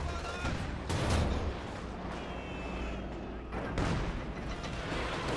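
An artillery barrage rumbles through a competitive strategy video game match, with dense overlapping booms and crackling fire. Two heavier bursts stand out over continuous battle noise.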